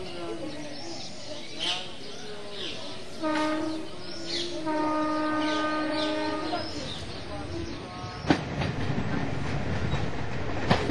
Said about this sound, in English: Just traveling throughout India on the train, you know, the noise and the chaos and the confusion